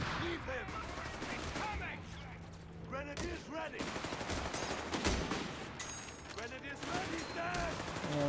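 MG42 machine gun fire in Company of Heroes 3 during a 1v1 pro league match, with dense sustained bursts and other gunfire crackling in a constant battle din, loud and continuous, with a commentator talking over it.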